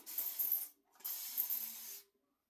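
Two bursts of fine hissing mist from a water spray bottle, the first about 0.7 seconds and the second just over a second, close and quiet, with no talking.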